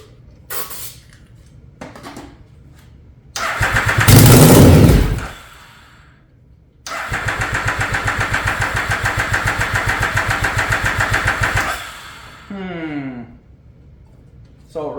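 A Yamaha Raptor ATV with a swapped 1050cc engine cranks, briefly catches and revs loud, dies, then fires again and runs at a steady throbbing idle for several seconds before shutting off, with clicks around it.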